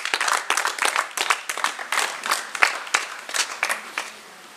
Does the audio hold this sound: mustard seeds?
no